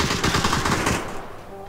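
A rapid burst of automatic gunfire rattles through a PUBG match, then stops as the clip ends in a quieter game background.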